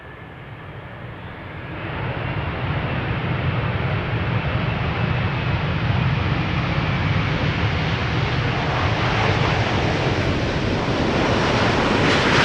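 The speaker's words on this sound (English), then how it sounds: "let's look and listen to the Emirates A380 Flight 147 arriving from Dubai." An Emirates Airbus A380 airliner arriving and landing at Amsterdam Schiphol Airport makes a loud, steady jet roar that swells after a couple of seconds and holds as a broad rumble with wind-like hiss.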